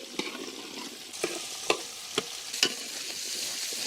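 Dry red chillies, cumin, peppercorns and shallots roast in ghee for a village-style mutton ghee roast, a constant close sizzle punctuated by several sharp stirring clicks and scrapes, with no voices.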